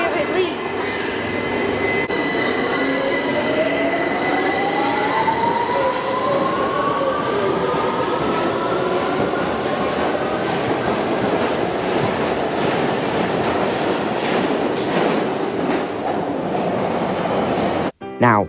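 A London Underground tube train departs close by, its motor whine rising in pitch over rumbling, clattering wheels as it gathers speed, loud and continuous until an abrupt cut at the end.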